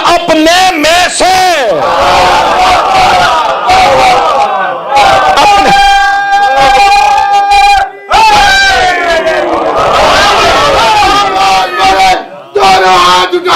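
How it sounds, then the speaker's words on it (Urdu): A large crowd at a religious majlis loudly chants slogans with both hands raised and palms open, massed voices roaring in waves with brief pauses and sustained shouted tones throughout. "دونوں ہاتھ اٹھا کے پنجہ کھول کے نعرے"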